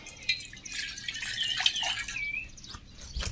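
Water splashes and trickles into a metal cooking pot in short uneven pours, with bright ringing splashes up close and no voices.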